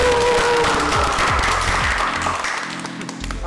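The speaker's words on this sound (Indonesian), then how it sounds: "kita tepuk tangan dulu." An audience claps during a talk-show pep talk, a loud, busy patter of many hands under a low musical hum that thins slightly toward the end.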